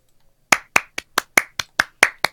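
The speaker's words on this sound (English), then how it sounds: "I can't tell who's clapping" One person claps their hands nine times in a quick, slightly uneven rhythm, each clap sharp and close, after a brief quiet moment, with no talking.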